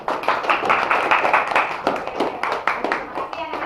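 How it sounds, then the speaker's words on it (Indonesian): Schoolchildren in a classroom clap together in a quick, steady burst of applause that lasts a few seconds, close and lively, with some talk mixed in. "kita kasih tepuk tangan dulu untuk kita semua yang sudah menyelesaikan diskusi hari ini"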